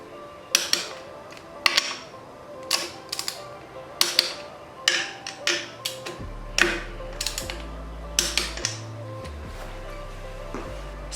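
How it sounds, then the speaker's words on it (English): A ratcheting torque wrench tightens the upper motor mount bracket bolt on a Yamaha YZ125 dirt bike to 24 foot-pounds, giving bursts of quick metallic clicks close up, with a low hum entering partway through. "Now we're going to torque our upper motor mount bracket to 24 foot-pounds."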